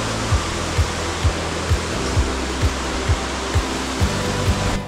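Malý vodopád, a small waterfall in a Slovak Paradise gorge, pours in a steady, full broadband rush close by, with a regular low thump roughly every half second underneath.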